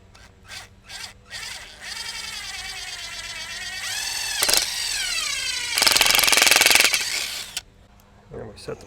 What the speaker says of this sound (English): I'm drilling straight through the pipe.